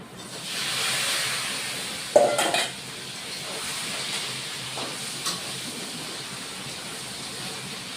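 Fried potatoes and okra dropped into a hot pan for masala bhindi, a sharp clatter followed by a steady close hiss of sizzling oil that fades gradually.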